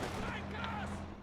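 Rifle grenade fire and battle gunfire in the video game Company of Heroes 2, a dense continuous rumble of shots and blasts with someone talking over it.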